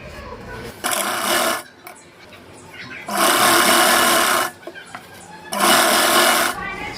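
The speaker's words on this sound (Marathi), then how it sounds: "आता आपल्याला काय करायचं वरच्या साईडने शिलाई मारायची याच्यावर दाब शिलाई मारायची" A sewing machine stitches the hem of a silk petticoat in three loud, steady bursts of rapid whirring, separated by short pauses with quieter handling sounds.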